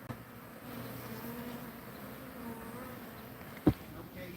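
Bees from a hive holding brood hum steadily and fairly loud throughout, a dense continuous drone with one brief sharp knock near the end.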